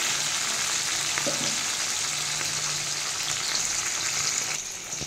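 Bata fish sizzle steadily in hot oil in a pan as one side finishes and the pieces are turned over; a constant, fairly loud hiss runs throughout with a few faint clinks, and no one speaks.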